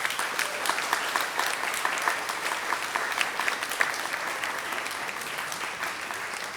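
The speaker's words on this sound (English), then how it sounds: "So one last round of applause." Audience at a performing arts recital in the Cheong Fatt Tze Mansion breaks into sustained, enthusiastic applause, a thick crackling spray of many hands with scattered sharper claps, loud and close and continuing evenly for several seconds.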